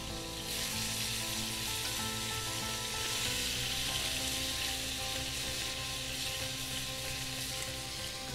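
Scallops searing in a very hot pan, a steady, dense sizzle and crackle that holds at an even level throughout, with faint stirring or shifting in the pan and no voices.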